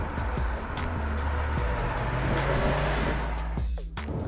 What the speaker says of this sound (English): what you can definitely notice is when the petrol engine comes on